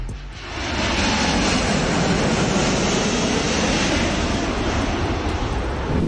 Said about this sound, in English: Check out this plane flying through the fog.